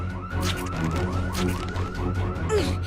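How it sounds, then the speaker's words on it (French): A loud electronic building alarm from an east wing wails in repeating sweeping tones, sustained and steady over a low background rumble, in a cartoon scene. "Cette alarme vient de l'aile Est."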